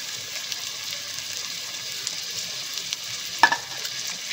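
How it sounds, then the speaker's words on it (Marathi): Roasted cashews and shallow-fried onion are stirred into paneer pulao, giving a steady soft sizzle with scraping from stirring and one brief sharp clink near the end, with no talk. "आता भाजलेला काजू घालून घेऊ आणि थोडासा शॅलो फ्राय कांदा."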